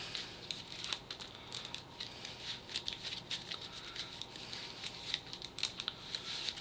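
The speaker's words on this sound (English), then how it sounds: "And now I'm going to shuffle the villain deck." The villain deck of a tabletop card game is shuffled by hand: a steady run of dry papery riffles and soft crackling patter, close and quiet, continuing without pause for several seconds and with no talking.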